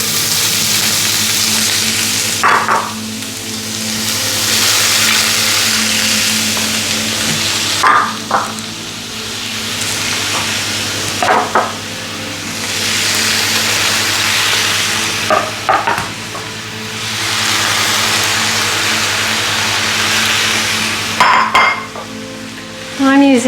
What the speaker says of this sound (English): We're going to pop that in and stir fry it for 4 minutes.